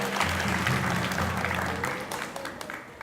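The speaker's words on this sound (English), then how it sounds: "big round of applause to you and all your students in the band program" Audience at a Martin High School band spring concert applauding the band director and student musicians, a steady crowd clapping that holds strong then thins out over three seconds, with a low musical hum underneath.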